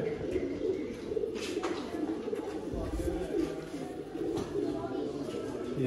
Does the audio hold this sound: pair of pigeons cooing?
yes